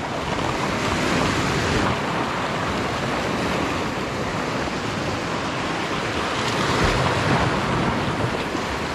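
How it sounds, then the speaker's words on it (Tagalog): Ocean waves surge and wash continuously at a fishing spot, with a steady broadband roar and gusting wind buffeting the microphone, swelling slightly near the end. "Oops, alon."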